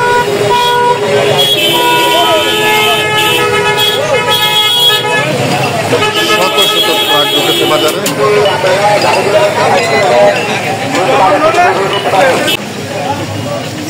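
At a bustling cattle and goat market in Chandimura, Barura, Comilla, trucks arrive amid repeated honking horns, engine noise and a busy crowd, with someone talking over the din.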